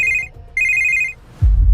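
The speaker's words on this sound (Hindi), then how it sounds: "तभी अनिका को आया एक ऐसा फोन कॉल जिसे सुनकर जम गए अनिका के पैर।" A telephone rings in a Hindi audio drama, two clear electronic ring bursts with a gap between them, followed by a low thump, loud and close with no talk.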